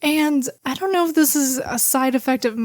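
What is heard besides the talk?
No everyday noises stand out.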